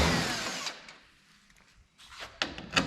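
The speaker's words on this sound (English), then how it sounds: "We might as well go ahead and take this one out of the headlight." A power tool whirs in short bursts while backing out 10 mm bolts along the front of a Cadillac SRX during headlight replacement, loud and close, with brief pauses and clicks between.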